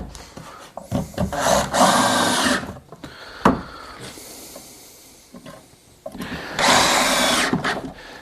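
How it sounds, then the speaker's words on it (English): A power drill drives screws into a wooden partition while a router table is being built. Two loud, close whirring bursts come with wood rubbing and handling noises between them, and no one speaks. "We can drive those screws home."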